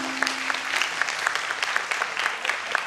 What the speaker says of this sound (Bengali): আমি একটি করতালি আশা করছি